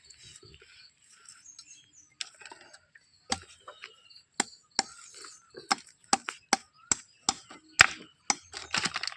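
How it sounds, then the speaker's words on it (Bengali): A knife chopping through a farmed rohu fish, with sharp cracking chops that start sparse and grow into a quicker, steady run of loud close strikes, with faint background chirps. "এখন একটা রুই মাছ কেটে আপনাদের সামনে দেখাবো।"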